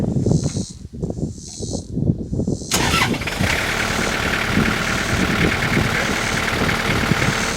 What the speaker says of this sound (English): see if we can start the tractor one more time